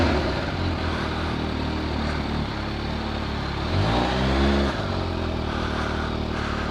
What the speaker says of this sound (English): First ride, Kawasaki H2.